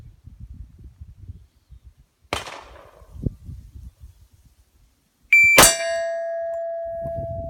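Handgun shots fired in a finger-on-the-trigger timing drill: sharp, isolated bangs separated by quiet gaps, with a final crack landing right on a high electronic timer beep that rings on steadily afterward.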